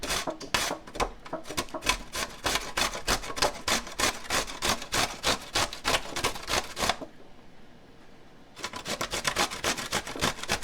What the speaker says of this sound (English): then we're just going to take our grater